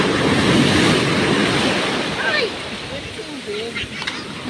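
Ocean waves at Dingalan, Aurora wash and roar loudly up close, mixed with wind buffeting the microphone, while voices chatter faintly in the background.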